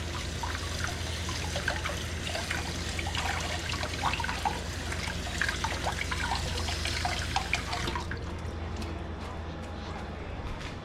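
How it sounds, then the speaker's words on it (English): Basil leaves rinsed under a running tap, a steady trickle and splash of water with small rustling drips, fairly close, until the flow stops near the end. "And last piece of basil to wash."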